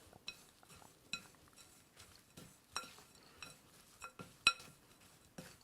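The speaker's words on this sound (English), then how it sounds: "I'm using my handy dandy rubber spatula to make sure I don't miss any. Let's just give that a stir." A rubber spatula stirring a reworked chocolate chip cookie mixture in a bowl, giving soft scraping strokes and light clinks against the bowl in an irregular rhythm, quiet and close with no talk.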